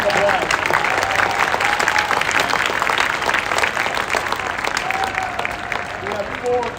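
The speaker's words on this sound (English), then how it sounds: "Give him a big round of applause." A marching band audience gives a round of applause for the drumline coordinator, a dense, close burst of clapping with a few cheers that tapers gradually while someone speaks over it.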